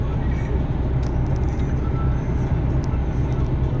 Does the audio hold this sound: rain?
no